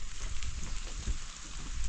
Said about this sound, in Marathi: पाऊस तर मात्र पडतोय